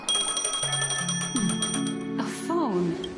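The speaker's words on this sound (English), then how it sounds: "A phone." A bell-like phone ringtone rings with rapid repeated trills. Voices and tonal sounds overlap it toward the end.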